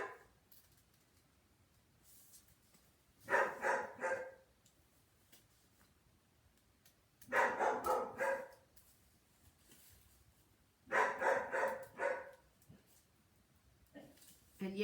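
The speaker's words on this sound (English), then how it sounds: "My dog is going nutty today." A dog barks in three loud, clustered bursts spaced a few seconds apart, each a rapid run of barks, with quiet room tone between and another bark starting right at the end.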